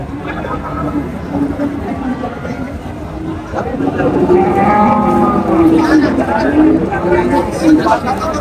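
Cattle lowing amid the murmur of a crowd at a cattle market in Chougachha, Jessore, with people talking nearby throughout, a busy outdoor market atmosphere.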